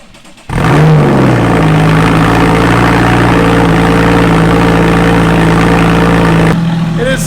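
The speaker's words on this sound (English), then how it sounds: "here's a cold start on a 2014 Porsche Cayman S with a crazy custom one-of-a-kind exhaust" A 2014 Porsche Cayman S cold-starts abruptly through a loud custom exhaust and settles into a deep, rumbling high idle, holding steady before cutting off.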